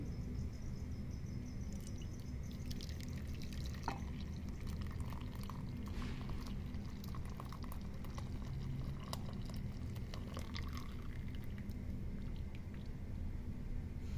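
A hot pudding mixture is poured slowly into a mold lined with caramel, making a continuous low, even stream of liquid that runs steadily for the whole stretch, with faint small clinks and no talking.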